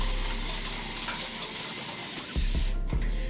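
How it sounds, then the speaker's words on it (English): Spray bottle filled only with plain water misting onto curly hair, a steady hissing spray running throughout, close and fairly loud, with a few sharper bursts near the end. "I'm gonna go ahead and start off with spraying my hair"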